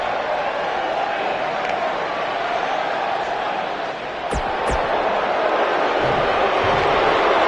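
Arena crowd from the wrestling video game WWE 2K19 keeps up a steady, dense roar for the whole stretch, with a couple of brief sharp impacts in the middle.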